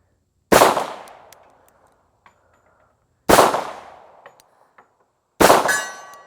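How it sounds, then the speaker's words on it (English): Three sharp shots from a 1911 pistol firing Winchester white box ammunition, spaced a few seconds apart, each followed by a ringing metallic clang from a steel target that decays quickly, with faint tinkling in between. "if I hit it, you should hear it because it is a steel target"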